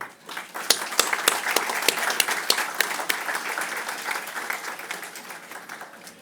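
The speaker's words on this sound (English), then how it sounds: "big applause for your grand achievement" A graduation audience at a 2024 university convocation in Bangalore claps for the graduating class: a swell of applause that builds quickly, stays dense with distinct close claps, then slowly thins out.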